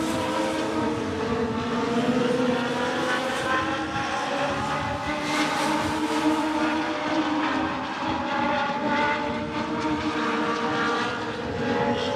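Race cars on the final lap at I-94 Raceway, a sustained roar of engines rising and falling as the field passes, with droning tones over continuous broadband noise.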